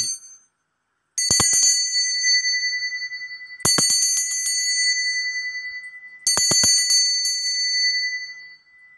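A bright bell rings three times at even intervals, each strike ringing out and slowly fading before the next.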